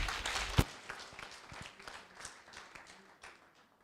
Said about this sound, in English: Can we please give the MM a round of applause?